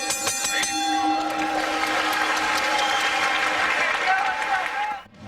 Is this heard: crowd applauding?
yes